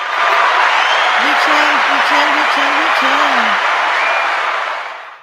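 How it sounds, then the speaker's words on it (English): A conference audience at CPX 2025 Americas in Las Vegas breaks into sustained applause, a broad wash of clapping and some cheering that holds steady for several seconds before fading, with someone speaking briefly over it. "Can we get an applause for the"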